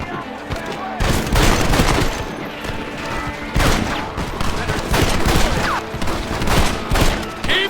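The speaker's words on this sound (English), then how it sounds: "Stop shooting at me!" Heavy gunfire erupts in a chaotic Red Dead Redemption battle, dense overlapping rifle and pistol shots cracking continuously with loud bursts throughout, mixed with shouting voices.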